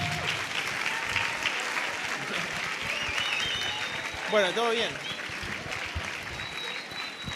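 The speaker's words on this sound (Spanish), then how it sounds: "Le damos un aplauso a Damián" An audience at an economics conference breaks into sustained applause, a dense and even wash of clapping filling the room, with a voice speaking briefly over it.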